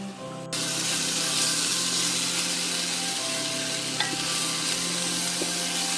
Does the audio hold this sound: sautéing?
yes